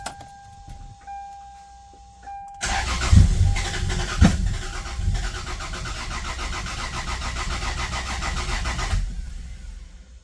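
A Lexus GS300 engine fitted with new spark plugs and coil packs cranks and catches, turning into a loud, steady running engine close by after a quiet start.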